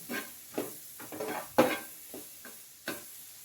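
Onions cooking in butter in a pan for paneer butter masala, with a soft sizzle under a series of spoon stirring strokes, several scrapes spaced about half a second apart, close and fairly quiet.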